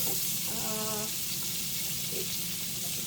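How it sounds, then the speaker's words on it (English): Onions frying in butter in a pan, a continuous broad sizzle close by with a faint tonal hum in the background. "I'm going to throw in the onions. So what I'm doing is I'm making onions and peppers."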